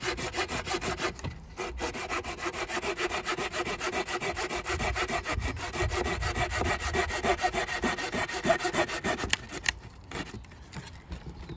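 Budget folding pruning saw cutting through wood with steady rapid back-and-forth rasping strokes, close and continuous for several seconds, with a couple of brief pauses and no talking.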